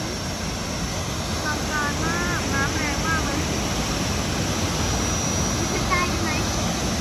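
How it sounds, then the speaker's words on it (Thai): Haew Suwat waterfall in Thailand pours with a strong flow, a loud continuous rushing roar filling the scene, with brief faint voices or calls rising over it. "โอ้น้ำตกเหวสุวัฒน์นะ"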